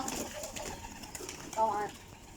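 Pet pigeons coo softly around a home loft, with low, muffled calls and a brief louder coo near the end under a faint background hum.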